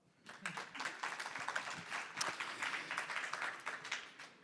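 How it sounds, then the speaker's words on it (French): Live audience applause at a round-table event on giant machines and street art, steady dense clapping that swells in and holds throughout, fairly close and loud with no talk over it. "Il n'est pas interdit de les applaudir."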